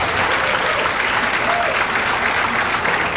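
A crowd at a women's pro bowling match, the 1992 LPBT Yuma Open, claps steadily and loudly, dense even applause throughout the short stretch with no break.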